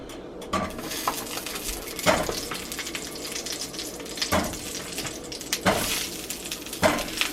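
Meatballs browning in a cast iron pan, with a steady sizzling hiss broken by several sharp clanks and scrapes of a utensil against the pan.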